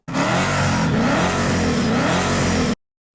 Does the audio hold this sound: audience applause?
no